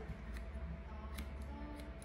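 Hairdressing scissors cut hair during a training session, giving a series of faint, crisp snips at an irregular pace over a low room hum with no talk.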